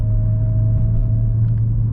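A car's engine runs steadily on its stock exhaust, giving a constant low rumble with a thin, steady whine held above it. The sound stays near and even throughout, with no talk.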